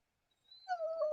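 A pet dog kept indoors while her wet feet dry gives a rising, drawn-out whine that swells and holds steady near the close, nearby and fairly clear with no talk over it.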